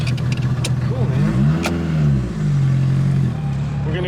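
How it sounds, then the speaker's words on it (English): The engine of a Hasselgren car revs up loudly and close before a ride, climbing, falling and climbing again, then settling into a steady idle. "We're gonna go for a ride in the Hasselgren car"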